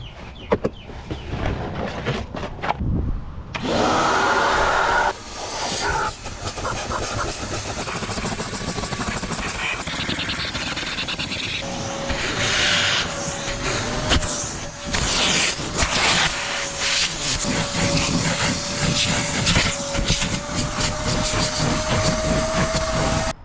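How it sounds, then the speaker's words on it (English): A Karcher WD3 wet and dry vacuum cleans a car interior, its motor droning steadily up close with changing suction tones and bursts of rushing air as the nozzle moves around. "It is both a wet and dry vac, so any spills or anything like that, you can use this to clean it up."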